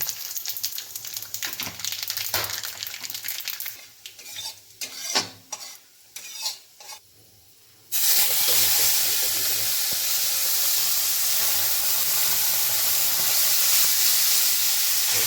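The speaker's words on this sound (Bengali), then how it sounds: "এবার তেলটা গরম হয়ে গেছে, তেল দিয়ে দিয়েছিলাম। এবার পাঁচফোড়নটা দেবো, পাঁচফোড়নটা দিয়ে দিলাম।" Panch phoron spices hit hot oil in a pot and burst into a loud, steady sizzle, preceded by a few seconds of clattering and stirring, with the hiss holding strong and close to the end.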